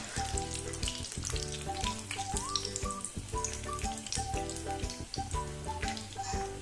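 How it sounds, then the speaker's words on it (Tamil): Breaded chicken and potato lollipops deep-fry in hot oil with a steady crackling sizzle, heard under prominent background music. "நம்ம லாலிபாப் நல்லா பொரிஞ்சு ப்ரௌனிஷ் ஆயிருச்சு"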